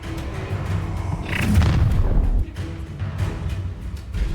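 A spell cast in the Hogwarts Legacy video game lands with a deep booming impact and rumbling burst amid ongoing battle noise, with no voices over it.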